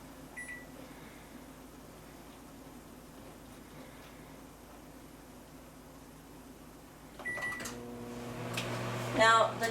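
A microwave oven running on high hums quietly and steadily while cooking chicken fajitas in a covered baker, then beeps near the end as louder clatter and movement start up.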